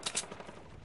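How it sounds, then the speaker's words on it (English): Faint, distant gunfire in a video game, a couple of quick bursts early on, then a low continuous crackle of shots. "Wait, I hear some shooting"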